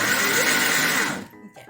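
A mixer grinder whirs loudly as it grinds garlic chutney, a steady dense roar that cuts off abruptly after about a second, leaving faint room sounds and a little background noise.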